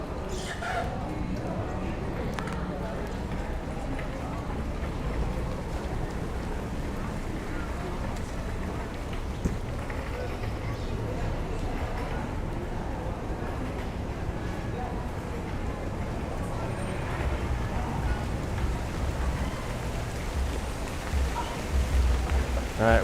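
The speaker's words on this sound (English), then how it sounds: "Eye for Ideas loves a Miami cloudburst rain." Heavy cloudburst rain pours down steadily outdoors in Miami, a dense continuous wash of noise under people talking.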